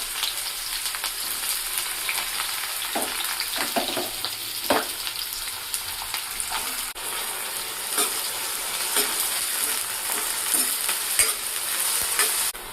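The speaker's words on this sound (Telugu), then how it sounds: "ఫస్ట్ అయితే ఆనియన్స్ వేసుకొని ఇవి బాగా ఫ్రై చేసుకోవాలి" Onions sizzle steadily in a pan for egg curry, a continuous bright hiss broken by occasional scraping stir strokes, close and loud with no talking.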